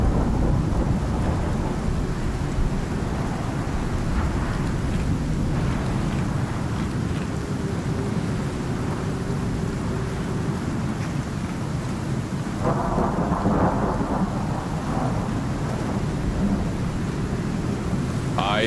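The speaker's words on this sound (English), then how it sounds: "I think the worst of the storm is over." Storm in the video game Icarus: steady heavy rain hissing over a continuous low rumble of thunder, with a louder rolling crack partway through, no voices.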